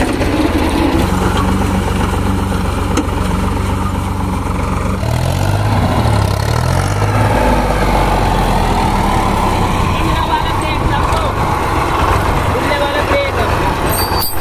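Tractor engine labouring while stuck in a village field, a loud continuous low rumble that surges and strains throughout, with people talking over it.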